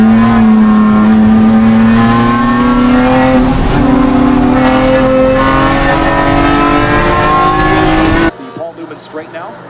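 A Porsche Cayman race car's engine drones loud and close as cars race on a circuit, the pitch slowly climbing through a long pull with tire noise under it, then cutting off abruptly near the end.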